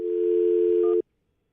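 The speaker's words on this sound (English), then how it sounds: "I'm gonna dial up the officer?" A steady telephone dial tone on a call to the Lakeland police department, held loud and unbroken for about a second before cutting off abruptly into near silence.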